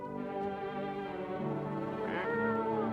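A cat in the horror video game No I'm Not a Human gives a long, drawn-out meow, close and clear, with a wavering tone that rises briefly toward the end, with no other sound competing.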